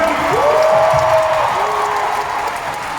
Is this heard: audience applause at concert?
yes